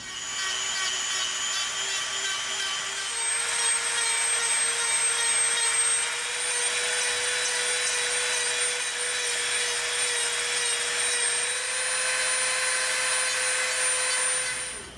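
A rotary tool fitted with a rough bit grinds and tapers EVA foam, a steady high whine with a continuous abrasive rasp running close and alone for the whole stretch.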